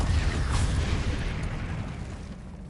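A Confringo blasting spell detonates in Hogwarts Legacy, a heavy booming blast with a deep low-end rumble that fades out gradually over a few seconds.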